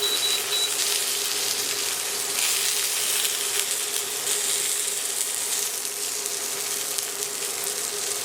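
Pike sizzles steadily in a pan, an unbroken close crackle and hiss that holds at an even level throughout.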